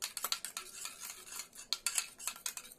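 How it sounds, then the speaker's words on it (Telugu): A metal spoon stirs and mixes food, giving repeated close scraping clinks and rattles against the bowl in an uneven rhythm, with no voices. "సో ఒక స్పూన్ తీసుకొని దీన్ని అనేది మంచిగా మిక్స్ చేసుకోవాలి"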